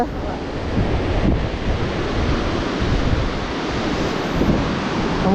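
Sea waves washing onto a beach at Revupolavaram, in a continuous loud roar, with wind buffeting the microphone throughout.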